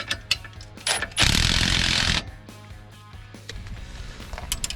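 A ratchet snugs up the bolts on a dual steering stabilizer on a 2019–2024 Cummins truck, giving close clicking pawl sounds in short bursts, with one longer, louder grinding stretch and lighter clicks following.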